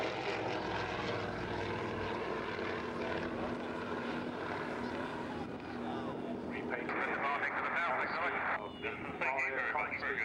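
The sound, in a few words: Avro Anson propeller aircraft flying past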